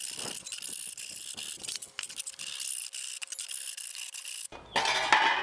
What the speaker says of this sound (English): I'm gonna smooth these cut edges real quick so they don't cut me later.